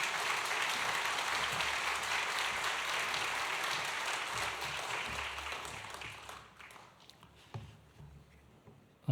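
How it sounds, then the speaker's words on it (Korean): A church congregation applauds to welcome a pastor at a church dedication thanksgiving service, with steady, dense clapping that holds for several seconds and then thins out to a few scattered claps. "우리 박수로 환영하겠습니다."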